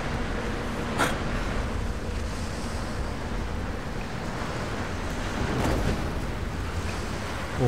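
Howling storm wind blowing through an indoor hall in the Tomb Raider video game, a loud continuous roaring gust with surging swells and no talking.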